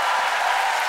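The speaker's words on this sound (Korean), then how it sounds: "박수!" Brief burst of studio audience applause on a KBS music talk show, a dense, steady wash of clapping under a second long with no voices over it.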